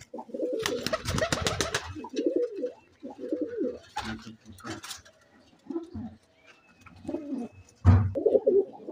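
Soft, low coos from teddy pigeons repeat in short bursts amid flapping and rustling, with some background voices and bird chatter nearby, in Lahore.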